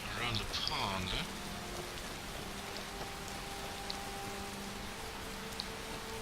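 Steady rain falls across an outdoor scene in the video game Skyrim, a constant soft hiss throughout, with a few faint droplet ticks and a brief game voice or tone near the start.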